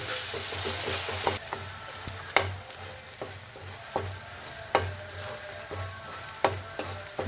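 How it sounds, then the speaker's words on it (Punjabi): Chopped onion and garlic frying in a pan, cooked until light brown: a steady close sizzle with occasional sharp stirring scrapes and clicks, no talk. "ਨਾਲੇ ਆਪਣੀ ਲਸਣ ਪੱਕ ਜੂ ਨਾਲੇ ਆਪਣਾ ਪਿਆਜ਼ ਤੇ ਆਪਾਂ ਲਾਈਟ ਜਿਹਾ ਬਰਾਊਨ ਕਰਾਂਗੇ"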